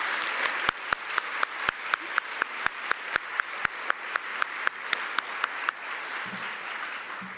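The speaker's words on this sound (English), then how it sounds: "please give all of these people your round of applause." Light audience applause at a teacher-of-the-year event, with a few sharp, louder claps standing out in a regular pattern, fading out toward the end.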